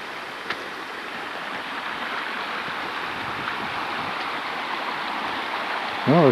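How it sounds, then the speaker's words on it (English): White water rapids on a river in New Mexico rush in a steady broadband roar, heard from a distance with light wind noise and a brief bump near the end. "Well, there's some white water there."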